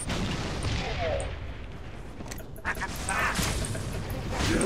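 A grenade explodes in the video game Halo: Spartan Assault amid constant battle noise and gunfire, one dull burst standing out briefly near the middle.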